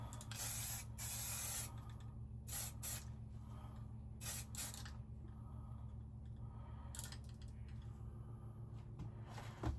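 Short bursts of aerosol Duracoat spray coating an AK47 Krinkov airsoft gun, several hissing puffs of varying length separated by pauses over a steady low hum, close and fairly quiet.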